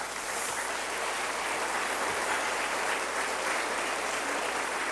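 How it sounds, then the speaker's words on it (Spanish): A church congregation applauds in a dense, sustained burst of clapping that stays evenly loud throughout, with no talking over it. "Dale otro aplauso al Señor"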